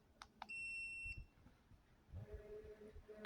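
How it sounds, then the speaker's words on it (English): Short electronic beeps from an Amazon Jugbow dog training collar, two quick ones followed by a longer steady tone, sound close and clear against a quiet background with low rustling. "Yeah, there's your beep."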